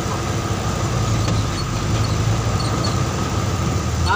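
A manual car engine pulls away after the shift into third gear, a steady low rumble that swells slightly, heard alone with no talk.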